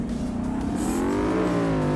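A Ford Mustang engine revs hard and loud while the car drives at high speed, the rising engine tone sweeping upward and holding steady throughout with no voices over it.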